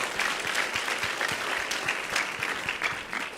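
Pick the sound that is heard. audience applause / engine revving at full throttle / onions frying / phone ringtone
audience applause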